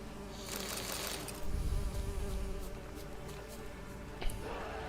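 Wasps buzz steadily over a nighttime outdoor scene, a continuous insect drone that swells briefly in the middle and carries on without speech.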